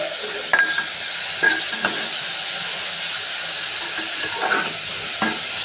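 Chicken and fried vegetables are stirred in a pressure cooker under a loud, steady sizzle and hiss, with a few scattered scrapes and metallic clinks from the spoon.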